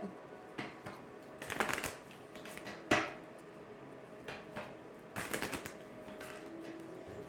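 Tarot cards are shuffled in a few short, riffling bursts, close and crisp, with quiet pauses and small handling noises between.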